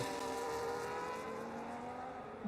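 Race cars lapping Spa in a racing video game, a steady high engine whine with sustained harmonic tones held loud and close throughout, alone with no talk.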